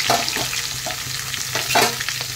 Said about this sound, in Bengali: এখন দিয়ে দেবো পেঁয়াজ, কাঁচা লঙ্কা আর ক্যাপসিকাম,